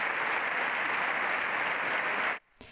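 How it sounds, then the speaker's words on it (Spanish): A sustained standing ovation fills the Spanish Congress chamber as King Juan Carlos I enters, dense, loud applause from a large assembly that stops abruptly near the end. "A su entrada al hemiciclo, el rey Juan Carlos I recibía esta ovación."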